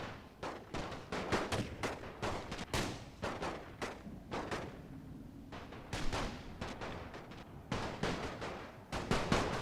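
Rapid volleys of rifle and artillery fire pour from a house in The Great War mod, an Austro-Hungarian battle, with dense repeated cracks and booms overlapping in irregular bursts throughout.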